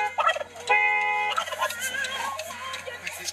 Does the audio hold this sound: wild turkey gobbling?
yes